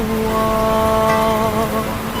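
Rain pours through a stormy sea-battle scene in a wuxia drama series, a steady, dense hiss of downpour heard beneath sustained tonal music.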